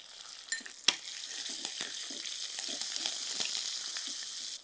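Garlic frying in a pan for a goat trotter thokku, giving a steady bright sizzle with a few sharp clinks of stirring near the start and no talking.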